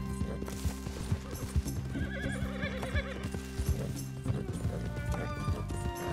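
A horse in Red Dead Redemption 2 gallops with rapid clip-clop hoofbeats, letting out a loud neigh midway while running, close and prominent over game background sound.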